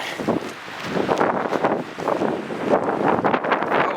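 Gusty wind buffets the microphone in continuous rough blasts beside a frozen, snow-covered lake, rising and falling throughout with no voices.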